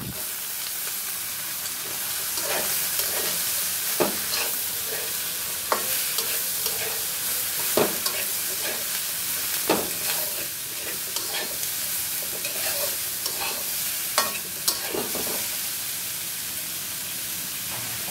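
Cut potatoes and bitter gourd fry in a pan, a constant loud sizzle broken by regular scrapes and knocks of a spatula stirring them.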